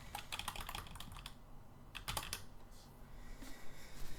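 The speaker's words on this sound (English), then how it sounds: "You probably can hear the clicking and clacking of my keyboard." Mechanical computer keyboard clicking and clacking in quick bursts of typing, close and fairly quiet, with short pauses between flurries while a PC game of Hollow Knight is played.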